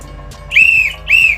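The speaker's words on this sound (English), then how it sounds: "But if I whistle twice" A whistle blown twice, two sharp shrill blasts of about half a second each, separated by a short pause, loud and close.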